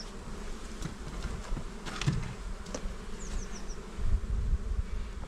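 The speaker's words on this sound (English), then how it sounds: "it's a very busy hive, and they are active over all 11 frames" Honeybees in a busy, well-populated hive open for inspection, a steady close buzzing drone with individual bees whining past, no talking.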